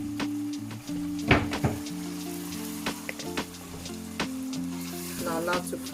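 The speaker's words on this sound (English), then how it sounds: "Now allow to fry for 20 to 25 minutes in a low to medium heat." Rice with seasoning powder and salt frying in a pot over low to medium heat, a steady close sizzle and crackle with occasional stirring scrapes and clinks, no voices.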